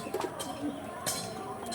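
Pulsar pigeons cooing softly at a moderate distance, brief low calls with scattered clinks and ambient noise, a voice faintly present in the background.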